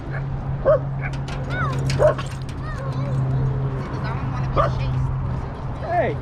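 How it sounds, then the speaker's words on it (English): Basenji dogs at a meetup of about twenty playing together let out a scattering of sharp yips, yelps and whining yodel-like cries, several close, over a steady low hum and background chatter. "Hey, you're a Basenji. Quit barking."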